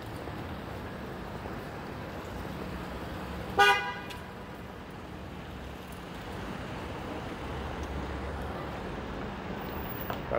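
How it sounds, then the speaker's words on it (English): On a downtown Toronto street near Bloor-Yonge station, a single short car horn toot sounds once over steady, distant traffic noise, then the street rumble continues without further honking. "illegally entering an intersection and honking at someone to get out of your way"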